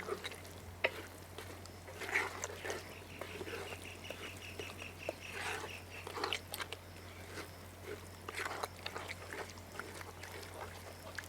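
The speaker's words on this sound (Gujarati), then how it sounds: "આપણે નાખી દઈએ દહીં અને એકવાર થોડું મિક્સ કરી લઈએ." Curd being stirred into a pan of wild greens curry, giving soft, irregular scraping and wet mixing sounds with a faint sizzle, quiet and close, over a steady low hum.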